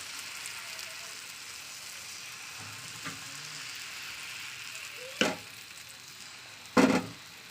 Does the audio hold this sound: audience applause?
no